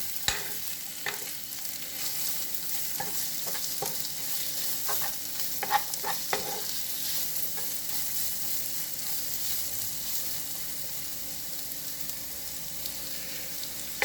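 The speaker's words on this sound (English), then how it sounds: "Now it's time to add in our veggies. We're going to saute these." Raw vegetables sauteing in a hot pan for a cheesy shrimp and sausage penne alfredo, a steady close sizzle with occasional sharp stirring clicks and scrapes of the utensil, no talking.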